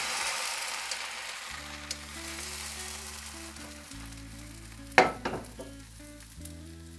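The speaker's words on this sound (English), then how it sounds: "For perfect patishapta, make your pan very hot and then reduce the heat and spread some butter. Put batter and spread immediately." Patishapta batter spread in a very hot pan with butter, cooking over reduced heat: a soft, steady sizzle runs throughout, with a sharp clatter of utensil on pan near the middle, heard close and without talk.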